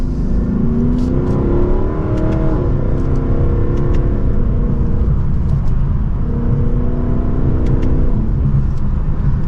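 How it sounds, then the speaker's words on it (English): A Lexus car accelerating from second gear, its engine a loud, continuous, rising drone heard from inside the cabin, with the pitch climbing steadily and dipping briefly once partway through. "That was a very mild acceleration."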